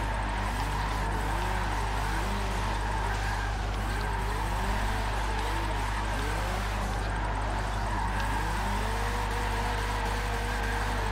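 A Dodge Viper drifts in Forza 7, its engine rising and falling in repeated revving sweeps over a steady low drone and tyre noise, continuous and moderately loud.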